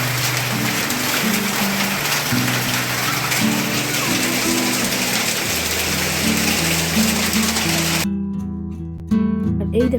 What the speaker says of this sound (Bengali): এই দেখো কত শিল পড়ছে,